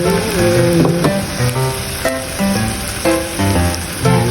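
Squid sautéing with tomato in a pan, a loud close sizzle with crackling spatters throughout and occasional clinks of a utensil against the pan.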